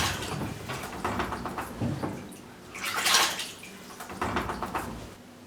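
Calf leather is soaked in water at a shoemaker's bench, with intermittent sloshing and splashing in bursts and a louder wet splash midway.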